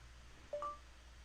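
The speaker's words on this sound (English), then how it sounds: "That was my phone. My phone just heard me." A phone gives off two short electronic tones in quick succession, faint and clean against a quiet room.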